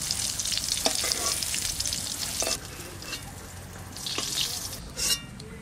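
Small cut eggplant pieces sizzling in a frying pan, with stirring scrapes and crackles that rise and fall over several seconds, close and moderately loud, no speech.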